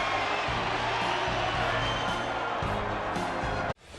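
Stadium crowd roaring in a sustained wall of cheers at a Brewers–Cubs NL Central tiebreaker baseball game after a home run and curtain call, loud and continuous before cutting off abruptly near the end.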